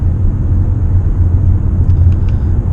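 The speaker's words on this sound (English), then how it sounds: "Okay, I'm accelerating now" A plug-in hybrid car's engine revving under acceleration toward highway speed, a steady low droning rumble heard from inside the cabin with no talking.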